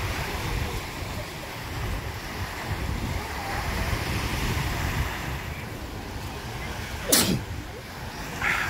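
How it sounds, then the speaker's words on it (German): A single short, sharp sneeze outdoors at Playa de Palma on Mallorca, rising briefly and clearly above steady surf and wind noise near the end. "So, jetzt muss ich niesen, vielleicht kann ich es unterdrücken."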